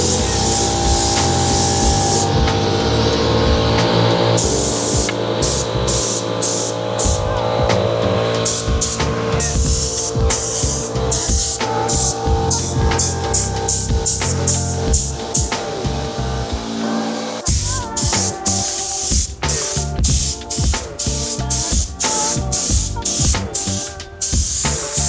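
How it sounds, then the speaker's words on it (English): Paint is sprayed onto the rear of a rusty BMW E28 being refinished with a new coat. Loud hissing bursts come in quick, uneven pulses and short passes, with brief pauses between them. "I'm giving this a new coat of paint this time as"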